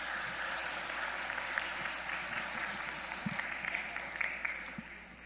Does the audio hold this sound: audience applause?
yes